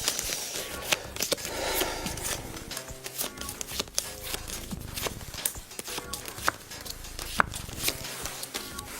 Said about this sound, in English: I'm going to mix my cards up and lay them also face down